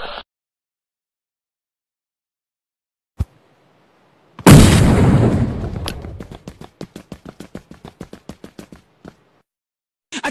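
Bomb explosion in the video game PUBG: a sudden, loud, booming blast after near silence and a single sharp pop, followed by a decaying rumble and a string of rapid, evenly spaced clicks.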